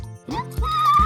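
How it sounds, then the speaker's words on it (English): A horse whinnies loudly and clearly, a rising then sustained high neigh lasting about a second, heard alone in an educational farm-animal sequence. "Horse."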